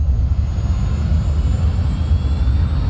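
A guided missile in flight in Call of Duty: Modern Warfare 2, a steady, loud, low engine roar that holds evenly throughout with no break, close up and with no talking.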